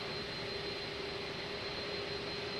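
Steady, loud jet airliner engine roar during takeoff in Flight Simulator, a constant broadband drone with a thin high whine and no pauses.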